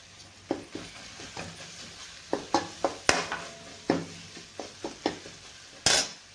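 Masala sizzling and frying in a pan as turmeric goes in, with repeated sharp clinks and scrapes of a spoon stirring against the pan over a steady low hiss, loudest bursts near the end.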